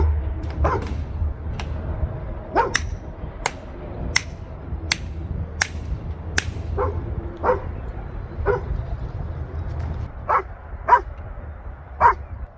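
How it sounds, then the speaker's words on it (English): A dog barks repeatedly outdoors at a farm, sharp single woofs spaced a second or so apart with a few softer yips and whimpers between, moderately close against quiet rural background. "You're just barking back at your echo now."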